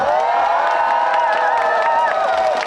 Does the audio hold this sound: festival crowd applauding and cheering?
yes